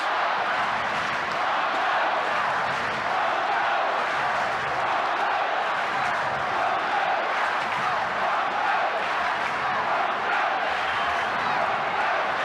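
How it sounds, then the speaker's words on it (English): A large rugby league crowd chants for the Broncos at Lang Park in 1988, a steady, roaring mass of voices that holds at the same level throughout. "The chant going up around Lane Park for the Broncos."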